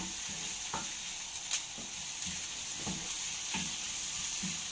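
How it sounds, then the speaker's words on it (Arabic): Potatoes, rice and vegetables sizzle steadily in a frying pan while being stirred, with a constant hiss and repeated soft scraping strokes of the utensil against the pan. "نحط كده نقلب بالشكل ده"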